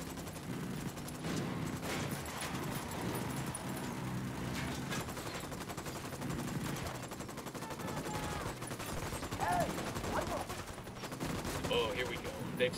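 Squad gunfire in Ghost Recon Wildlands, a steady wash of automatic and single shots at moderate distance, continuous throughout with overlapping crackle and no clear pauses.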